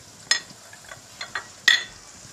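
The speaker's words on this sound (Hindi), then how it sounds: "अब हम इसमें डालेंगे सारे मसाले जो मैंने आपको बताए हैं मसाले, ये ऐड कर देंगे हम, और इसको अच्छे तरीके से मिक्स करेंगे" A spoon stirs spices into an onion and tomato masala for chicken biryani in a pan, a few distinct scraping clinks against the metal spaced apart over a quiet background, with no talk.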